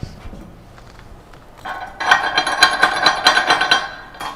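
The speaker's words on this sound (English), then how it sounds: "Grab our chipping hammer and our brush." A chipping hammer and wire brush clean slag from a flux-cored weld bead. Rapid, bright metallic taps and scraping ring out close up in a steady fast rhythm for a couple of seconds.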